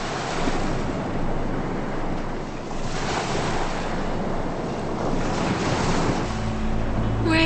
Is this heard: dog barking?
no